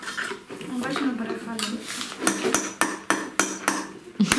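A small hammer taps sharply several times in a quick, uneven series of close clicks, mixed with light clattering and a voice talking during a third birthday party.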